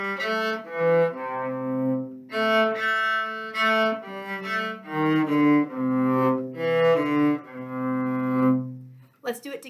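A solo cello plays a lyrical phrase of sustained, connected notes from an orchestra method piece, bowed close and clear with small swells and short gaps between phrases.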